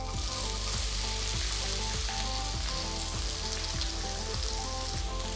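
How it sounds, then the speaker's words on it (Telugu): Finely chopped onion frying in hot oil in a pan for wheat rava upma, a loud, steady close sizzle with faint rhythmic stirring taps underneath. "ఇప్పుడు నెక్స్ట్ నేను 1 ఉల్లిపాయ బాగా సన్నగా తరిగి దీంట్లో వేస్తున్నాను."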